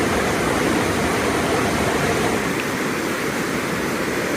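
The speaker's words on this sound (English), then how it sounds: "it'd be nice to be by the creek, but it's so loud" A loud, steady rush of a fast creek in Lamoille Canyon, Nevada fills the whole clip, dense and unbroken close by, with no voices.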